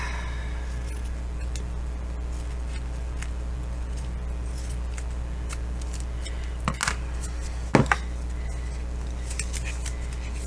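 Scissors snip through thread or material during bookbinding while signatures are sewn in, giving two short, crisp cuts close by over a steady low background hum, with no talking.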